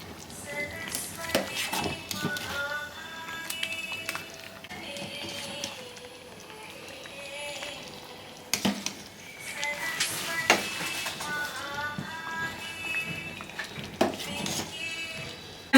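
A spoon stirs Gobindobhog rice khichuri up and down in a pot, giving soft, irregular metallic scrapes and knocks at close range over a faint, steady tonal background.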